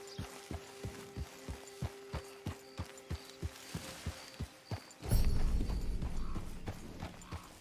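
Horse hooves clip-clopping in the video game Red Dead Redemption 2, an even walking rhythm of about a dozen distinct thuds, then a louder burst of rustling movement takes over near the end.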